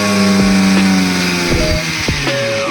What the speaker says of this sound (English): Our BLDC motor came to life.